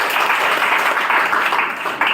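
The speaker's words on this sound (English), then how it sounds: "please give a huge round of applause" A classroom audience at an English academy gives loud, continuous applause, a thick and close burst of clapping that holds steady for about two seconds.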